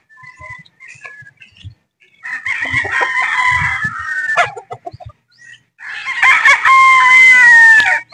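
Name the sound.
Boston Roundhead chickens crowing and clucking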